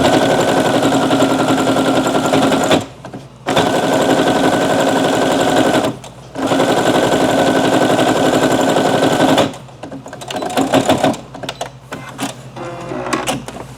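A sewing machine runs fast stitches with a 0.2 mm setting through apron fabric. It makes long, steady mechanical runs broken by two short pauses, then ends in choppier stop-start bursts, close by and loud, with no talk.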